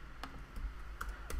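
A handful of soft keystrokes on a computer keyboard, faint and close, tapped out in a short irregular run.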